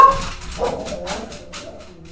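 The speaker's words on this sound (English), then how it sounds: "I don't know why they're barking." Several dogs bark and yip in The Sims 3 video game in a quick, uneven burst, slightly thin and processed, fading off toward the end.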